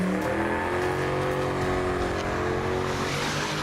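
A revving car engine during a street burnout, with rubber burning: a loud, sustained roar with a steady high tone, close and unbroken throughout.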